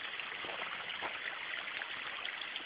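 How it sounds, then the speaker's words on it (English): A creek below a waterfall in the Logar Valley flows with a steady, faint, close rushing and trickling of water, with no voices. "here's that creek, the one with the waterfall"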